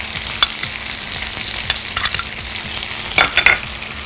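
Minced onion with Worcestershire and barbecue sauces stirred in a pan for a burger, a close, steady sizzle with repeated scraping and clinking utensil strokes, louder toward the end, no talking.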